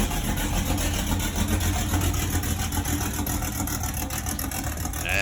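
A C4 Corvette V8 fitted with long tube headers and Sniper EFI, running loud and close with a steady, rough, throaty rumble that holds for several seconds without letting up.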